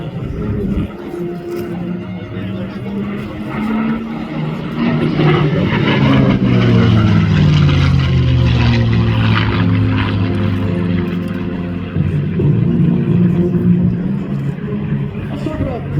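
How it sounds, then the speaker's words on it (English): A P-51D Mustang propeller fighter flying an airshow demonstration at a Marine Corps air station: a loud, steady piston-engine drone with rising and falling propeller harmonics as it passes, swelling mid-clip, with a voice faintly under it. "One crazy trip for the P-51 Mustang."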